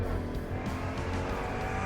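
A supercharged Jeep Trackhawk with 707-plus horsepower launching hard, its engine roaring in a steady, loud, close drone with tires squealing underneath, no voices.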